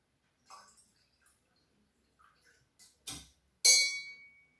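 Glass cups holding different amounts of water are tapped, giving two or three sparse, ringing clinks of rising loudness, with the last strike loudest and fading out slowly.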